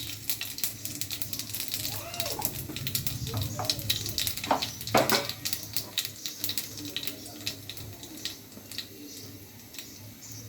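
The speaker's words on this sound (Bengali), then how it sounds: "এবার আমি তেলে জিরা আর রাঁধুনি ফোড়ন দিয়ে দিব" Cumin and radhuni seeds crackle and sizzle in hot oil for a Bengali pabda fish curry with potato and ridge gourd, a close, steady frying hiss broken by sharp popping ticks throughout.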